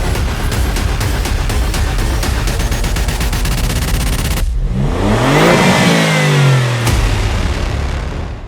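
Alfa Romeo Giulia GTA with a titanium Akrapovic exhaust revs loudly, a rapid crackling idle burble giving way to a rising then falling engine sweep, close and alone with no talk.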